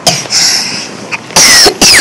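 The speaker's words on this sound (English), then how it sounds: "quit coughing all over me" Several sharp, loud coughs in close succession from a person nearby, with a brief pause before two final harsh bursts.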